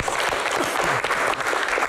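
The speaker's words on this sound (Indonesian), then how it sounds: "Tepuk tangan sekali lagi untuk Aswar." Brief burst of audience applause at an evening event honouring a government minister, dense and continuous clapping from a large crowd, fairly loud throughout.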